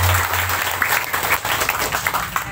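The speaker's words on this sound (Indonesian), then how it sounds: "Tepuk tangan buat Ustadz Agus." A short burst of audience clapping at an Islamic religious gathering for Ustadz Agus, loud and ragged with individual claps standing out, lasting under three seconds.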